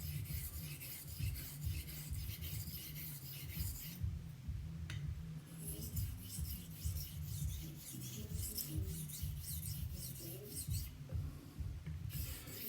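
A straight razor is stroked back and forth on a hone while setting the bevel, giving a steady, close scraping rhythm with soft rubbing texture throughout.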